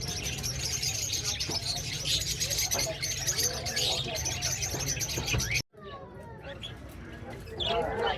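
Yellow-sided conure male and green-cheeked conure female, a breeder pair at a pet shop, give dense, continuous chirps and calls alongside a steady low hum. The calls break off briefly near the end and return with clearer, separated chirps.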